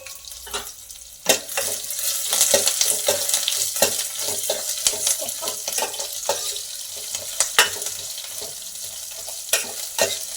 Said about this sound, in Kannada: ಸೊ ಈರುಳ್ಳಿ ಸ್ವಲ್ಪ ಫ್ರೈ ಆಗಲಿ.